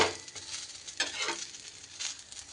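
Pitha made without wheat flour, maida or semolina frying in a pan: a steady, soft sizzle with a few brief louder crackling bursts, close and alone with no voices.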